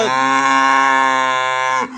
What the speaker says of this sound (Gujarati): જે આજે ઉતરી છે એ ગાય તમે જોઈ શકો છો